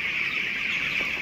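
Broiler chickens on a farm, nineteen days old, cluck and chatter in a continuous close flock murmur.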